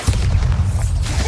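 A Bombarda explosion spell cast in the video game Hogwarts Legacy, a loud continuous low boom with a rumbling tail, close and filling the whole short moment.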